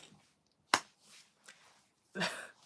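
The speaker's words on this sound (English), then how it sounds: "That clap was a bit near the camera." A single sharp hand clap close to the microphone, a loud dry crack standing out against near silence, followed by a few faint rustles and soft noises.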